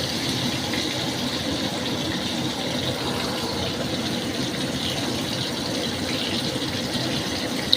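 Slices of pointed gourd fry in hot oil over high heat, giving a steady, even sizzle and hiss that holds without a break.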